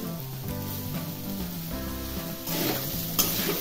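Food sautés in a pan on a gas stove, a continuous sizzle with stirring that grows a little louder near the end, with light music playing beneath.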